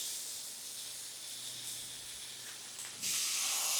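Beef steak for fajitas sears on a hot flat-top griddle with a steady close hiss that jumps abruptly louder near the end as the meat is flipped onto the hot surface.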